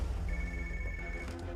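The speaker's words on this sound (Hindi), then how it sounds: "सोफिया, तुम ALX ऑफिस को फोन करो" An electronic telephone ring tone sounds steadily over a low background hum, fairly faint and continuous, with no speech.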